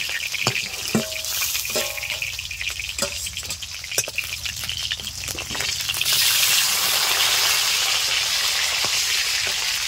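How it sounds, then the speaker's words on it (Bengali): Pieces of ritha fish sizzle and crackle in hot oil with occasional stirring clinks, then the frying swells into a louder, steady hiss as more fish go into the pan; no speech. "এই তেলে বাদ বাকি মাছগুলো ভেজে নেব।"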